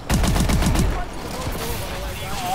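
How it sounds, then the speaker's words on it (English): Rapid automatic gunfire from Call of Duty: Advanced Warfare rattles for about a second in a loud, close burst, then fades into quieter background game noise. "Keep shooting."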